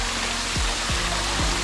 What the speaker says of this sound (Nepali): फोहरामा पानी चाहिँ सरर झरिरहेको छ